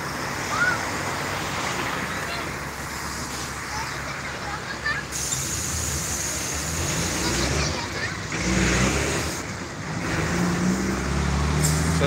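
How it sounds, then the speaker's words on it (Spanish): Trucks roll past on a windy road in Chihuahua, a broad rumbling wash of tires and engine noise mixed with gusting wind, rising and falling as vehicles pass, with faint voices underneath. "Aquí van los camiones."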